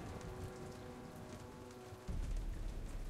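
A rainstorm in Jurassic Park: The Game pours as a constant patter with a steady hum, then a deeper rumble swells in partway through and stays, with no voices.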